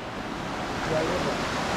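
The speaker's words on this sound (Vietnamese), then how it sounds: "Ra đây lại đi theo suối. À theo khe nước." Water from a mountain stream in a forest ravine rushes steadily and continuously, with a dense, even hiss that fills the background without pause.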